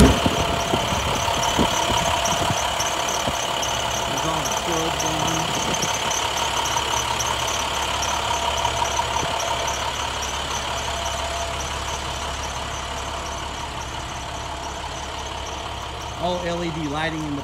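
A 2015 International truck engine idles steadily nearby, a continuous low rumble with a faint knocking texture, and someone talks briefly over it near the end.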